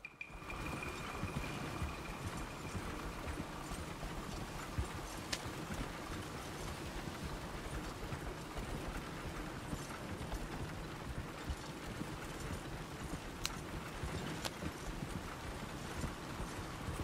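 Horse hooves clip-clop on a road in Red Dead Redemption 2, a steady, even trot that runs throughout at moderate volume beneath a soft ambient bed, with no talking.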